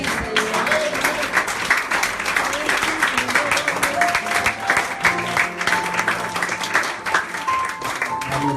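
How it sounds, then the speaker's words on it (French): Church congregation in Lyon, France applauding during a Pentecostal service, a steady wash of clapping that runs throughout with music and voices mixed underneath. "On applaudit le Seigneur."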